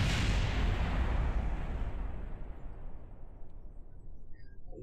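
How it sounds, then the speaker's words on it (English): Small explosions in the Kerbal Space Program video game, one loud blast at the start followed by a broad rumbling roar that gradually fades away, no talking. "Little explosions are just fine."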